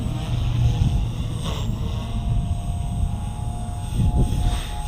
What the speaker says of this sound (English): It is such a great little helicopter.